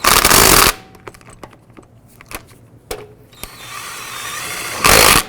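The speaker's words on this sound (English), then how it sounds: "Then we're going to go ahead and snug up the lug nuts." Lug nuts being snugged up on a 2004–2009 Dodge Durango front wheel with an impact wrench, two loud rattling bursts at the start and end, with lighter clicks and tool handling in between.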